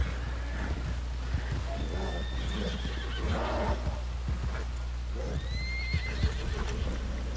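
Horse in the video game Red Dead Redemption 2 neighing and whinnying several times over steady hoof clip-clop, against a constant low rumble of game ambience, close and fairly loud with no speech.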